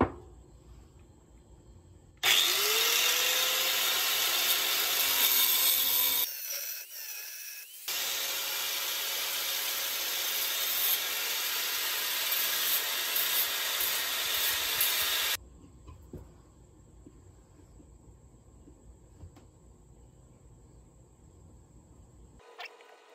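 An angle grinder slices off a piece of quartz in two loud, sustained bursts of harsh grinding with a high whine, separated by a short pause and followed by quieter background noise.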